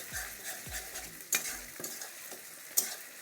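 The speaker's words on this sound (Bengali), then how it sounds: "এখন দিয়ে দেবো আদা বাটা আর রসুন বাটা। এটা দিয়ে একটু ভালো করে ভেজে নেব।" Ginger and garlic paste sizzles with chicken in a pan for a spicy Bengali chicken curry, while a spoon stirs and scrapes through it in several short strokes. A couple of sharp metal clinks stand out, and no one speaks.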